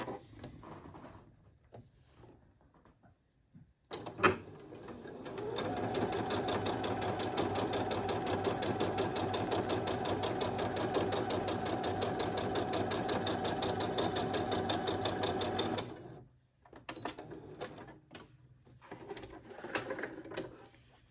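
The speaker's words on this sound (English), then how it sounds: "I'm going to take it up to the machine and follow my 1/4 inch." A sewing machine stitches quilt squares along a quarter-inch seam, giving a long, steady mechanical whir for about eleven seconds, framed by quieter handling and rustling of fabric before and after.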